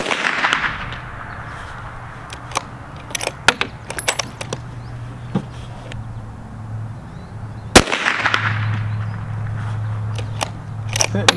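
.223 subsonic rifle fired at a target, two sharp loud cracks several seconds apart, each followed by a lingering low rumble, with scattered clicks and rustles of handling between them.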